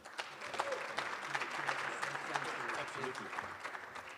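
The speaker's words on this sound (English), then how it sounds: "Can we please clap him off?" An audience at a social justice panel session applauds, a steady, moderately distant wash of clapping that fills the whole stretch, with faint voices beneath.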